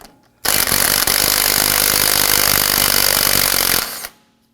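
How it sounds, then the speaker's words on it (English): A pneumatic impact gun with a socket spins off a 13mm nut on the front hub of a 2015-2020 Ford F-150, one loud sustained rattling burst of about three and a half seconds, close up, then cutting off. "Let's remove the 13mm nut using our socket and impact gun"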